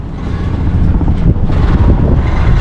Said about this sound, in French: Le vent, il a baissé. Il y a 5 nœuds de vent.